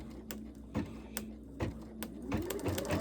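An embroidery machine runs slowly and intermittently, a few soft rhythmic stitch thumps then a pause, repeating several times at close range with a faint motor hum between bursts.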